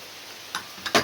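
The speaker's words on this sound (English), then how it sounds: "Can you hear the rain? I thought we'd sit out here so we could hear the rain." Rain falling outdoors near someone sitting outside, heard as a steady soft hiss with a few sharp drip-like ticks toward the end.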